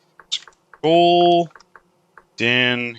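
Keys clack on a computer keyboard in short, scattered bursts of a few taps each as a search word is typed, with a person talking between the bursts.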